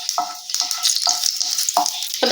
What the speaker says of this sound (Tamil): அந்த கடுகெல்லாம் நல்லா பொரிஞ்சு வரட்டும்.